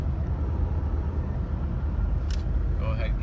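A Jeep Cherokee Sport XJ with 34,000 miles cruising steadily on cruise control, heard as a constant low engine and road rumble from inside the cabin, with a voice talking over it.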